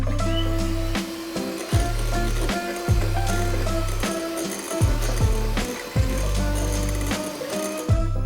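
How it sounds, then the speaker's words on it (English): Electric mixer beating cake batter with vanilla for a dried fruit and nut Christmas cake, a loud steady whirring motor with rhythmic clunks and pitch shifts as the beaters move through the bowl, close up and with no talk. "Now we can add vanilla and beat it a bit more."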